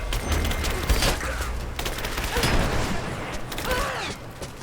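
Bursts of gunfire in the video game Rise of the Tomb Raider, dense and continuous with overlapping shots and mechanical clatter, loud and close throughout with brief bright cracks standing out.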